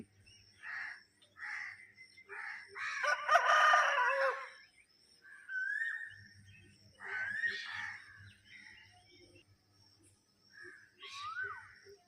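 Roosters crow several times at a distance in a village, long wavering calls spaced through the morning quiet, with softer clucks and a low rumble in between.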